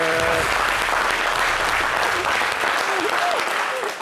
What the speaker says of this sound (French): On applaudit pour Oscar, s'il vous plaît.